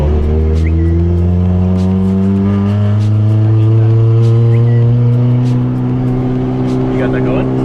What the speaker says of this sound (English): I'll give you a taste. A little second gear pull.